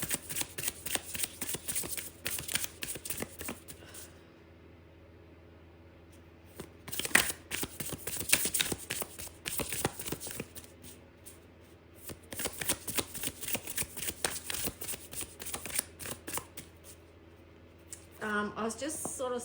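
A deck of oracle cards is shuffled by hand in repeated bursts of crisp riffling and flicking, close and clear, with quiet pauses between rounds and a voice speaking briefly near the end.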